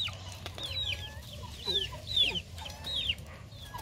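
A hen clucks repeatedly in short, sharp bursts close to the microphone, with faint farmyard background and no talk.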